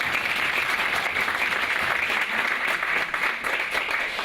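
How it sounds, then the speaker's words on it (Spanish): At an academic conference on languages, the audience breaks into steady, full applause for a presenter, with dense clapping and no voices over it. "Un aplauso."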